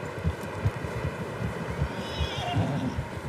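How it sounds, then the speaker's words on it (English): Horses neigh and whinny in the Red Dead Redemption 2 game world, several calls over steady hoof clatter and wind, with a voice talking faintly underneath. "Horses, quite a few of them."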